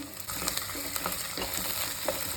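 Native garlic and curry leaves fry in hot oil for a fish kulambu, a steady close sizzle with faint stirring scrapes running throughout.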